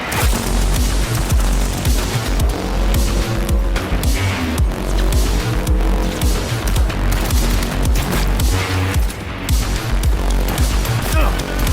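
Gunfire from the Warhammer 40,000: Darktide video game, a loud, dense run of rapid shots and booming impacts layered over heavy game noise and music, with someone talking over part of it.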